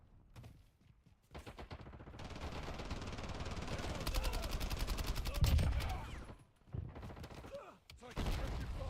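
Rapid video game gunfire rattles in bursts across most of the stretch, loud and close, with brief pauses and a heavier thump midway while a voice speaks faintly underneath.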